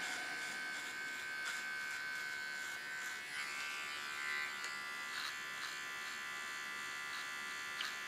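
A small electric hair clipper trims the hairline contour around the ear, giving a steady, close, high-pitched buzz that holds for the whole stretch with slight wavers as it moves over the hair.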